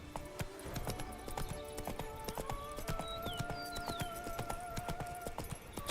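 Roach, a horse in The Witcher 3, trots steadily with a regular clip-clop of hooves, a short whinny, and soft ambient tones underneath; no one speaks.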